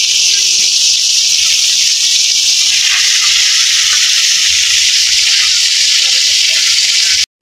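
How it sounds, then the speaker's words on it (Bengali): Fish frying in hot oil, a loud, steady close sizzle and hiss that runs unbroken for several seconds before cutting off abruptly, with no voices. "রাঙা দিয়ে তেলটা দিয়ে নিচ্ছে, মাছটি ভাজা হয়ে গেছে"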